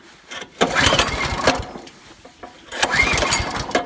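A Honda CT200U motorcycle engine cranks and catches without the choke in cold weather, with two bursts of sputtering, rattling engine noise separated by a brief lull, close and fairly loud.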